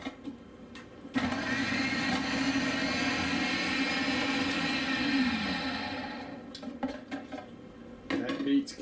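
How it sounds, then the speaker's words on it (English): A food processor shreds chunks of horseradish root with a loud, steady grinding whir. The whir runs for about five seconds, then fades into rattling and clatter as the blade slows, with faint talk around it. "I've cut it so it'll fit in my food processor."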